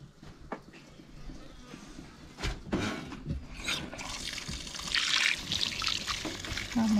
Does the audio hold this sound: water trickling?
yes